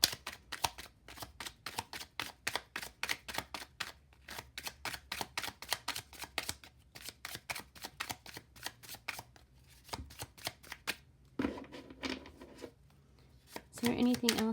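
Tarot cards shuffled and handled up close, a rapid, steady run of crisp riffling snaps that pauses briefly and then resumes with a few louder handling sounds.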